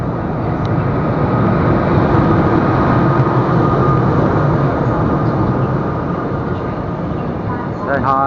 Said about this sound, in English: This is our train, guys.